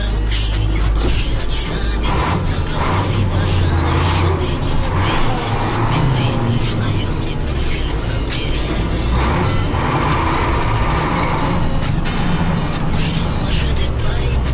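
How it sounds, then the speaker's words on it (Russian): Ural truck with a KAMAZ engine pulling away, its heavy diesel roar steady and loud throughout, close to the listener, with faint voices mixed in. "камазовский мотор на Урале вообще"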